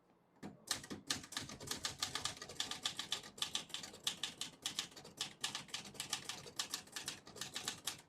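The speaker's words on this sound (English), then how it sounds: "Beautiful typing machine." Typing on a 1970 Olivetti Lettera 32 portable typewriter, with rapid, close, crisp keystrokes striking in an uneven stream and occasional heavier mechanical clacks, no talking.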